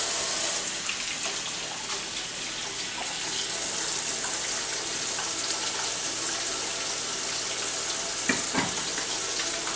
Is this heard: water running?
yes